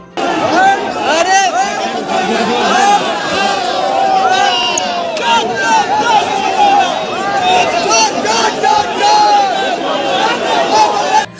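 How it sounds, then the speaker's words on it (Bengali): A dense crowd at the Calcutta High Court premises roars and chants a repeated slogan, loud and close, with overlapping shouting voices and restless hubbub throughout. "আদালত চত্বরেই তাকে লক্ষ্য করে ওঠে চোর চোর স্লোগান।"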